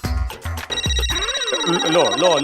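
A phone rings for an incoming video call in an office, a warbling electronic ringtone looping steadily after a few brief spoken words at the start.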